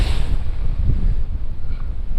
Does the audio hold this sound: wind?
yes